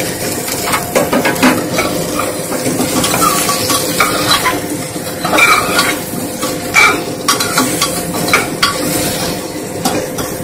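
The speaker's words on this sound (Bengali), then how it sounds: "পটল আর কুমড়ো দিয়ে দিচ্ছি" Pointed gourd, pumpkin and potato pieces fry together in a pan for Bengali dalia, a continuous sizzle broken by frequent close scrapes and clinks of a spoon stirring, with no voices.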